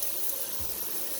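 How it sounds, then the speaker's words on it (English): Water runs steadily from a kitchen tap while cod is being prepared, a constant broadband rush close by with no voices over it. "I normally keep water running."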